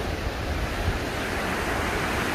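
The Mantaro river flows in the Peruvian highlands near Izcuchaca, Huancavelica, as a constant, loud broadband rush of water with no break, mixed with some wind noise.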